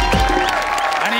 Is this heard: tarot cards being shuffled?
no